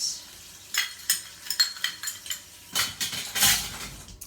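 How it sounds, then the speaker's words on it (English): A tablespoon being rinsed under running water, a rapid series of close metallic clinks and taps against the sink with a brief rush of water near the end. "Now I'm going to rinse out my tablespoon since I'm done with it"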